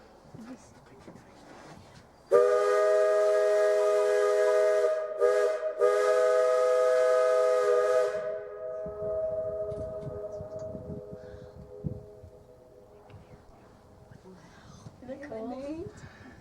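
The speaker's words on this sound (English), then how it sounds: "They say that whistle can be heard as far away as 10 miles." A powerful steam locomotive whistle on the Cripple Creek steam train sounds abruptly, holds its chord-like tone with a couple of short breaks, then trails off as people begin talking.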